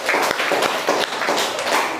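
Students in a classroom break into brief applause, a dense patter of hand claps running steadily throughout, fairly close and loud, with no talk over it.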